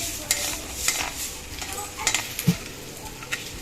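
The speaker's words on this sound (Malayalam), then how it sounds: "ഇനി നമുക്ക് ഇതേ എണ്ണയിലേക്ക് ഉലുവ ചേർത്ത് കൊടുക്കാം." Fenugreek seeds fry in hot oil for a dried mango pickle, giving a steady, fairly quiet crackling sizzle broken by occasional scrapes and taps of a spoon stirring the pan.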